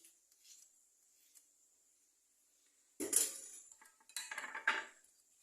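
A small spoon clinks and scrapes against a bowl while stirring an oil mixture for a homemade cough syrup, in brief bursts after a quiet stretch.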